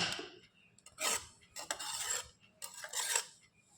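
A knife slices giant taro (mankochu) into thin strips on a board, giving several close, bright scraping cuts in short bursts with brief pauses between them.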